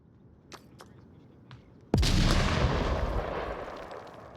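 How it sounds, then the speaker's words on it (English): A grenade bursts in the VR shooter Onward with a loud, sudden boom, then a long rumbling decay; faint distant gunshots crack before it. "That grenade should have done some damage"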